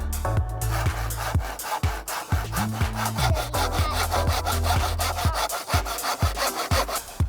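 Steady back-and-forth sawing through wood, close and loud, with a regular rasping stroke rhythm running the whole time.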